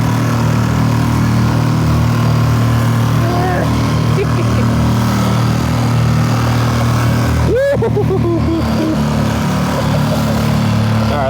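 A Pelican Catch PWR100 motorized kayak runs on the water with a loud, steady engine drone throughout, heard close and unbroken, with a voice briefly over it.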